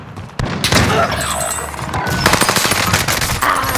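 Gunfire in the video game Plunder: loud bursts of rapid automatic shots, one sustained volley followed by another stretch of rattling fire, with a voice speaking briefly among the shots.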